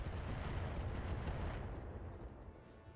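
Turrets firing in the mech combat game Battletech 3062 make a dense, continuous heavy rumble of booming shots that holds steady and then eases off slightly, loud and close, with no talking.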